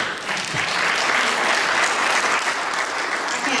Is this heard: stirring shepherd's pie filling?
no